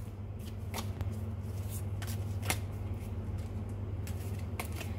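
Tea leaf oracle cards being shuffled by hand, a rapid continuous riffle with crisp flicks and snaps repeating throughout over a low steady hum.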